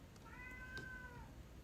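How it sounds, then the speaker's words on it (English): A cat meows just outside a door, one drawn-out, slightly falling call that sounds faint and muffled against low room noise, with no talking. "cats being problematic right outside my door"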